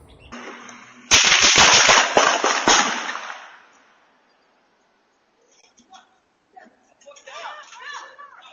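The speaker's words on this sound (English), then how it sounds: "there were gunshots that went off" A rapid burst of several sharp gunshots bangs out close to a Ring doorbell camera, sounding like loud cracks that fade into quiet. Faint voices and small noises come in afterward.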